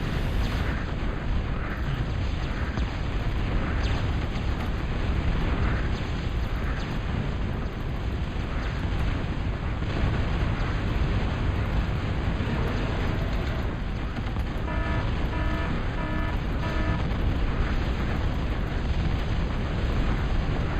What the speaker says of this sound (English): force firing these depth charges to absolutely shred these Pels